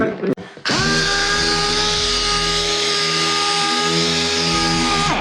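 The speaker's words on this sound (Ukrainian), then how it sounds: "А тоді мені зараз компресор треба вмикнути." An air compressor motor in a car paint workshop kicks on abruptly after a brief clatter and runs loud and steady with a strong droning hum and whine.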